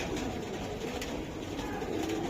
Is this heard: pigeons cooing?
yes